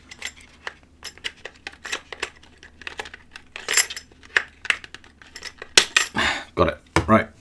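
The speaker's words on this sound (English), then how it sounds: "snip these off." Scissors snip at small parts of a Federal Lock HS40P padlock, giving a close, uneven series of sharp metallic clicks and clinks.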